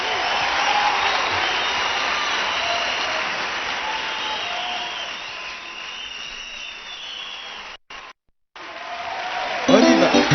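A church congregation at a live worship concert applauding and acclaiming: a long, dense, even roar of clapping and crowd noise that briefly drops out near the end, then returns with a voice.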